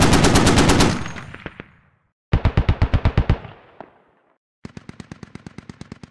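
A .50 cal machine gun on an open-top tracked vehicle in the game Squad fires three loud, close bursts of rapid, evenly spaced shots, each ending in a fading echo, with short silences between them.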